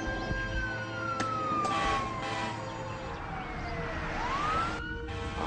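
A wailing siren sweeps down and then rises again, steady and fairly close, with traffic rumbling underneath.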